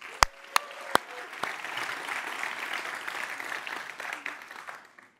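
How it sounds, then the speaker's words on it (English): Audience applause at a Speed Build Challenge competition, opening with a few sharp loud claps, then a steady sustained round of clapping from the crowd that tapers off near the end. "So let's also give them a round of applause."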